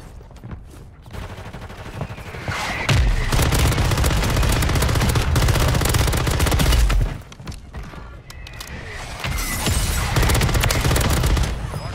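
Rapid automatic gunfire from the Warzone video game comes in long, loud sustained bursts with a brief lull midway, plus scattered shots and impacts, with no talking.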